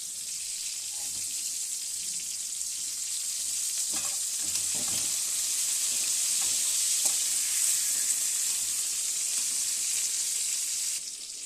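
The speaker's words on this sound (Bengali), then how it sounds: "পটল আর বেগুন ভাজা হয়ে এসছে" Pointed gourd and eggplant fry in oil in a pan, a steady bright sizzle running throughout, with a few soft clinks and stirring knocks in the middle.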